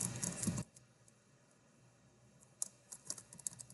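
A computer keyboard is typed on to enter a file name, a soft cluster of quick key taps near the end after a louder opening burst, faint and close against quiet room noise.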